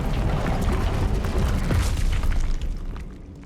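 A heavy whooshing roar of an Incendio fire spell in Hogwarts Legacy, a loud dense burst of flame that swells and then tapers off over a few seconds.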